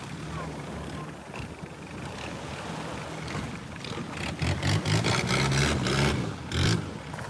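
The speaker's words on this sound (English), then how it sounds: "One thing for sure, these motors on the boats are not quiet" Boat motors running near a beach on Ko Lipe island, Thailand: a rough engine drone that rises and revs toward the end, mixed with wind and a voice talking over it.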